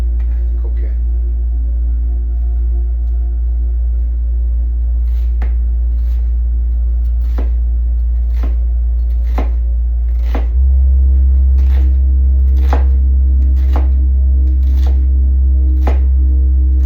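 Knife blade strikes a cutting board at a steady, even pace as an onion is chopped, sharp close taps over a constant low hum from the kitchen.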